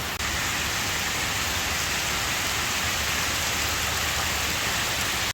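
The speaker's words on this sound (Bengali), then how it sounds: "আমি আর বৃষ্টি হইতেছে প্রচন্ড পরিমাণে বৃষ্টি হইতেছে" Heavy rain pours down steadily beneath a tree, a dense, loud, unbroken hiss of falling water with no voices.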